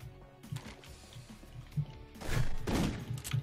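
Gunfire in the GoldenEye: Source video game while the golden gun is in play, with a scatter of faint thudding shots and a louder burst of firing toward the end.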